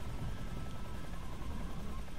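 Helicopter from the stealth video game Metal Gear Solid 3, a steady low rotor and engine drone that holds at a moderate, constant level for the whole span with no talk over it.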